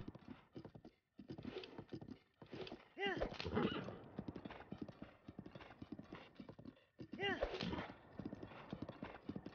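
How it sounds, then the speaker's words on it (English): Rhythmic clip-clop of horse hooves while riding a horse in a Zelda video game, steady and fairly close, with a horse whinny partway through and people talking over it. "Riding the horse."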